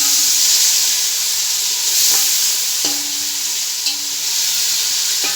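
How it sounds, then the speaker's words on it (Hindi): Spices and tomatoes fry in a pot for chana pulao, giving a steady loud sizzle and hiss with a few soft stirring clinks, and no voices. "और साथ ही डालेंगे अपने टमाटर और इसको अच्छे से भून लेंगे"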